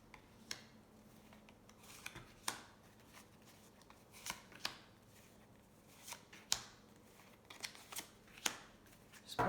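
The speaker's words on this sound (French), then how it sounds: "Alors, je vais sortir 5 cartes." Oracle cards being shuffled and drawn by hand, soft papery flicks and snaps at irregular intervals, close and quiet, with no voices.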